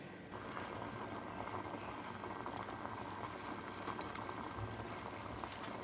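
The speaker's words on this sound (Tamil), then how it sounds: "இப்போ இதை நம்ம கொதிக்கிற தண்ணியில் போட்டுடலாம்." Water for tandoori chai bubbles at a low, steady simmer in a pot while crushed pepper and cloves are dropped in, a faint, soft, continuous boiling hiss with a small splash.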